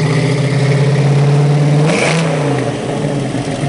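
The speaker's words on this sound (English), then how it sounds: "Wow, what a rumble. 1952 rumble." A 1952 Briggs Cunningham car engine rumbles loud and close, swelling in a revving surge near the middle before settling back to a steady throaty idle.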